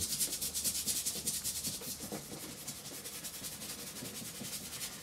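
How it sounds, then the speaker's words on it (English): A brush scrubs oil paint onto a canvas in quick, repeated rubbing strokes, a close, soft scratchy texture with a steady rhythm and no talking. "just scrubbing on some a different shade"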